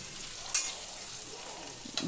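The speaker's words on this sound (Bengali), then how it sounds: "ভালো করে নেড়ে চেড়ে কাঁকড়াগুলো ভেজে নেব" Crabs frying with salt and turmeric, a soft steady sizzle with a couple of brief stirring scrapes, close but quiet.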